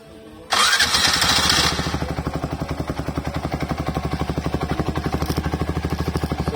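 A motorcycle with a drilled exhaust starts with a loud burst of cranking and revving, then settles into a close, rhythmic, chopping idle pulse that resembles a helicopter's beat.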